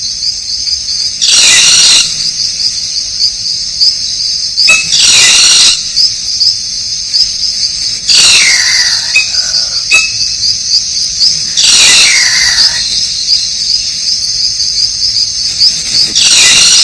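Loud bursts of shrill, squealing tropical bird calls in the Amazon recur every few seconds over a steady high insect-like trill, close and continuous with no talking.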